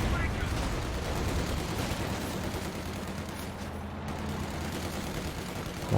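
Machine-gun fire from an MG42 in a competitive World War II video game match, rattling as dense continuous bursts across the whole stretch, under a commentator's talk.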